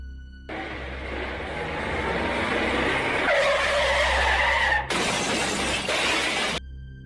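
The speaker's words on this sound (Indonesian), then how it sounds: "tiba-tiba Jerry kembali menginjak remnya secara mendadak dan membanting setirnya ke arah kiri" A car's tires squeal as it brakes suddenly and swerves left, a loud sustained skid that shifts pitch and cuts off abruptly, followed by a harsh burst of screeching noise.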